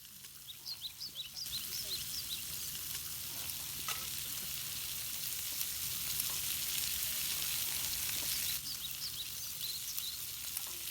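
Bacon sizzling and spitting in a pan over an open fire outdoors, a steady crackling hiss throughout with birds chirping faintly in the background.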